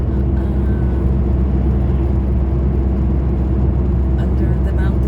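A car drives through a long tunnel under a mountain, and its engine and road noise make a loud, steady rumbling drone that fills the enclosed space throughout.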